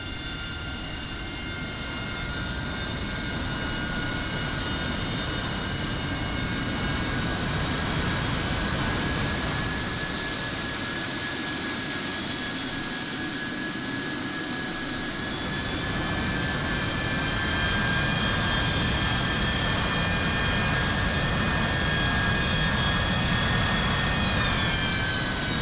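A cockpit view of an AV-8B Harrier II jet engine running in DCS World carries a steady, loud turbine roar with high whining tones that rise slightly in pitch, continuing for nearly half a minute without talk.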